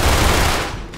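A loud, continuous burst of rapid gunfire from a shootout in Red Dead Redemption 2, dense and steady for about a second before tapering slightly, with no talking.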